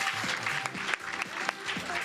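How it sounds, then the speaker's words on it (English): Audience applause at a knitwear fashion show runway, continuous clapping with a voice talking over it and a few sharper claps standing out. "let's clap that baby off"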